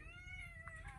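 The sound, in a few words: cat meowing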